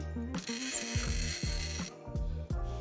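A gritty, ratcheting scratch of a bottle cutter scoring a wine bottle repeats in rhythmic strokes, close and fairly loud, with a high whine sustained over the middle.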